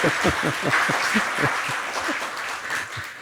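Audience applause at a Korean agricultural policy forum, a steady wash of clapping from a seated crowd with a few distinct low claps near the mic throughout.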